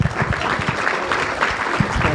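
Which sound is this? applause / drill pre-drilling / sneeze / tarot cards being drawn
applause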